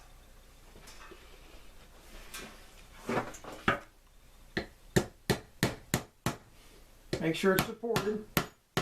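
Pin driven into a DAM Quick 330 spinning reel with a beveled pin, struck in a series of about eight sharp, close taps in steady rhythm, followed by a busier cluster of knocks, after brief talk at the start.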